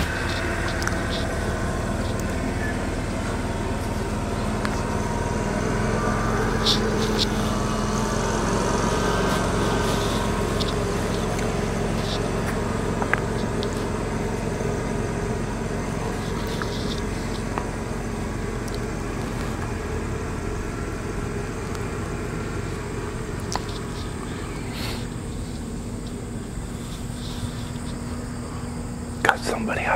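A motorboat drones steadily on the water at some distance for a long stretch, under an outdoor backdrop of chirping insects and occasional clinks nearby.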